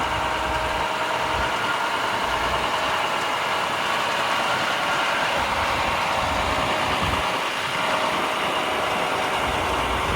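An International 7500 crane truck engine idles with a steady, even diesel drone and a faint high whine on top, close and unbroken throughout.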